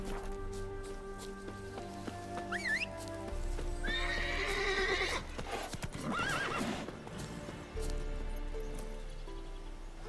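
Horse hooves clip-clop steadily in The Witcher 3 while the horse gives a loud, rising whinny midway, set against a game's ambient music and wind, with no talking.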